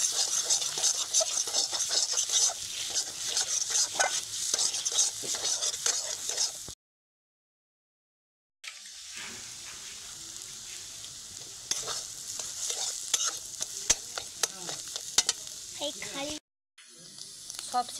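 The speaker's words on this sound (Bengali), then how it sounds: "একদমই ডিমের ভুজিয়া যেরকম হয় ঠিক সেরকমভাবে কিন্তু ডিমটাকে ভেজে নিতে হবে" Beaten egg bhujia stirred and frying in hot oil in a pan, a steady close sizzle with scraping stir strokes, broken by a brief silent gap and a short cut near the end.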